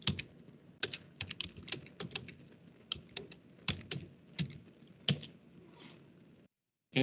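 Keys clack on a computer keyboard as a command is typed in bursts of irregular taps, close and clear, ending with a short pause and a final keystroke.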